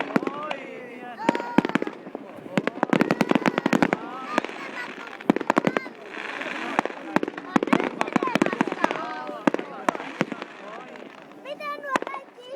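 New Year fireworks at Vaasa, Finland crack and bang in rapid irregular volleys, a mix of sharp reports and crackling from a middle distance, with people talking now and then.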